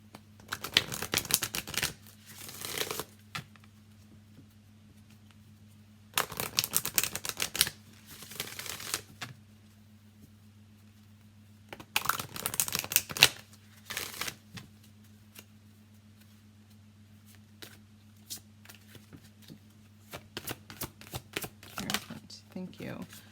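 A deck of oracle cards being shuffled in repeated bursts of rapid riffling and flicking, close and crisp, separated by quiet pauses over a faint steady hum.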